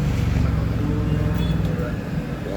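A Yamaha XSR 155 motorcycle with a modified exhaust idles steadily with a deep, throaty exhaust rumble, low and continuous throughout.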